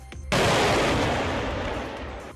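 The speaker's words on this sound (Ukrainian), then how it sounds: "На півночі України стрілятимуть із систем залпового вогню на навчаннях" Salvo rocket launcher fire during military exercises in northern Ukraine: a sudden, powerful launch roar that bursts in and sustains as a loud, broad rushing blast, heard alone without voices.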